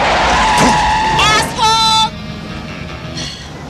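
A car accelerates with rising engine tones and a brief tire squeal, loud and close.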